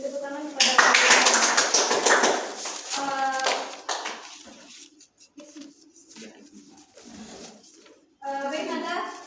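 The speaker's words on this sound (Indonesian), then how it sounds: "Beri tepuk tangan kepada" A class of students applauding in a classroom, a dense burst of clapping that starts loud, fades out with a lull, then swells again near the end, with children's voices and chatter mixed in.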